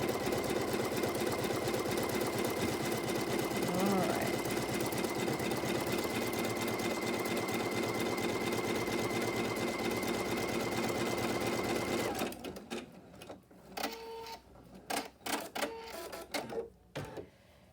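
A sewing machine stitches a quilt block for an orange peel center block, running steadily and loud for about twelve seconds, then stopping, followed by a few soft handling clicks and rustles.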